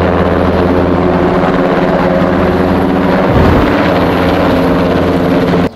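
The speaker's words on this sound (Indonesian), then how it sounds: "Ini adalah helikopter" A military helicopter drones loudly and continuously, its rotor beating steadily close by before cutting off abruptly at the end.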